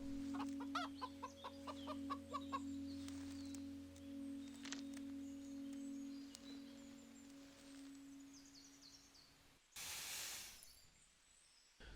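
Chickens cluck softly in the background over a steady electrical hum, with a brief burst of hissing noise near the end, on a permaculture farm.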